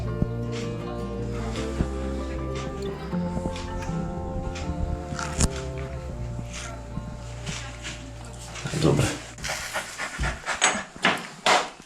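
A dog at a veterinary clinic pants in quick, steady breaths close by, with soft rustling and handling noises that grow busier toward the end.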